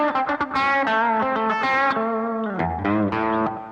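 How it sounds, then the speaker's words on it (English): Electric guitar chicken picking in a swamp rock style, played with a flatpick and a finger pick together, gives quick twangy plucked notes mixed with dead clucking notes and bends, driven through distortion and effects, alone and up close. "get that chicken picking sound that he's famous for"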